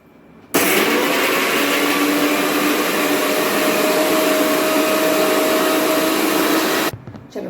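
An electric mixer grinder whirs loudly and steadily for about six seconds, grinding chutney ingredients with half a lemon for jowar-bajri dosa, starting abruptly and cutting off at the end.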